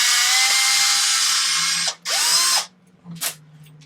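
Power drill spinning out bolts from an RC Typhon differential, a loud whining burst for about two seconds, a short second run, then a brief final blip with quiet gaps between.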